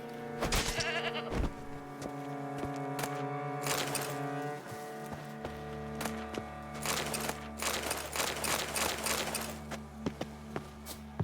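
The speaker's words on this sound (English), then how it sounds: "Goat!" Goat bleating in The Witcher 3 video game, several loud wavering bleats repeating across the clip over steady ambient game sound.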